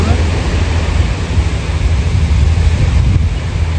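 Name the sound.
sea waves at the seashore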